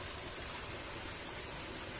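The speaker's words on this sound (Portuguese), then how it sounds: "E vai descendo aqui formando uma cascatinha." A small cascade of water running down from a lake in Parque Jipiro in Loja, Ecuador, a steady broadband rush that stays even and close throughout, with no voices over it.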